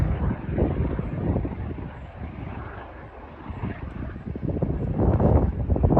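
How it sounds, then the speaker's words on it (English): A helicopter rumbles overhead in a steady, throbbing drone, fairly loud, with gusts of wind buffeting the microphone. "there's a helicopter over there, look"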